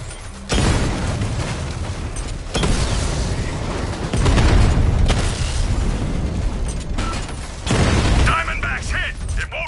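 A tank struck by explosions in Batman: Arkham Knight, with loud repeated booms and mechanical clanking in heavy bursts over about ten seconds, and game voices speaking alongside.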